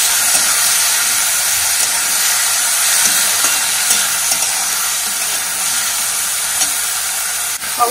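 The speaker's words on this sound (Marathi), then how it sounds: "पाहू शकता आपण 1-2 मिनिटं अशा प्रकारे फ्राय करून घेतलेलं आहे" Paneer pieces fry in a hot pan with a steady, loud, dense sizzle and hiss that holds evenly throughout, with a few faint stirring clicks and no voices.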